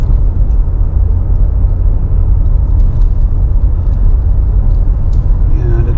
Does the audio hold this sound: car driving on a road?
yes